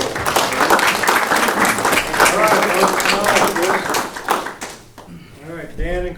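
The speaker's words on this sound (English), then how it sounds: "have a round of applause for both" Clapping from an audience at a fire science talk on chemical safety and emergency responders, steady dense applause for about five seconds that fades out, after which a person starts speaking.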